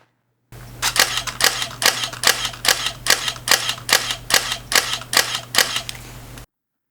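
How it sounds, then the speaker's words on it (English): Olympus E-1 Four Thirds DSLR firing in continuous shooting mode: about a dozen crisp shutter clicks in a steady, even burst, close and loud, over a low steady hum, with no talking. "let's get into what it sounds like when you get a continuous shot going."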